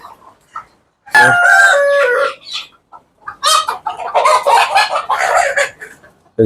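Nearby chickens cluck loudly in bursts on a poultry farm, and a rooster crows once early on among the excited squawking.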